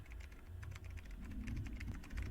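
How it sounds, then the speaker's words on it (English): Someone types quickly on a computer keyboard, a close, busy run of small clicks and taps with no speech. "There's someone typing on a bloody keyboard."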